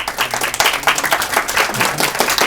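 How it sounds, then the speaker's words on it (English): An audience applauds the filmmakers at a post-screening discussion, with dense, continuous clapping filling the room throughout. "can everybody just give these filmmakers a round of applause"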